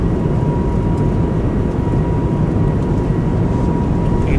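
Airbus A220 jet engines held at takeoff power in a flight simulator: a loud, steady, broadband roar with a faint thin whine riding on top, unbroken throughout with no voices.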